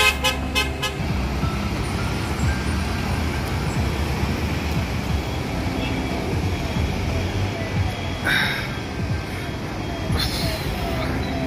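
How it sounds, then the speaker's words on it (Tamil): A Kerala government bus in busy Ernakulam city traffic, with dense steady road rumble throughout, a few sharp horn toots near the start and more around the middle and end, under a constant wash of engine and street noise. "கேரள அரசு பேருந்து கொச்சியை ஒட்டியிருக்கும் எர்ணாகுளம் நகரில் எடுக்கப்பட்ட காட்சிகள் இவை."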